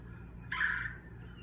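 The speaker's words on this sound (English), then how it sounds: "Pileated woodpecker." A single short pileated woodpecker call rings out loud and close for about half a second, then fades, with no other sound around it.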